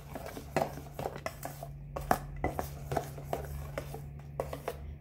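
Ripe banana fritter batter being mixed in a bowl, with irregular clinks and scrapes of a utensil against the bowl and soft stirring, close and moderately loud, with no talking.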